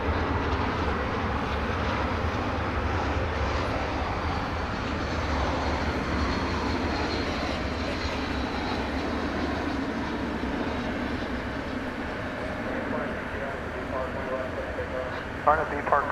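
An airliner approaches at DFW Airport at night: a steady broadband jet roar, moderately loud and constant, holding without pause.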